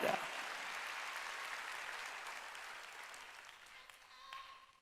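Congregation at a church service breaks into sustained applause, a dense even clatter of many hands that slowly fades toward the end.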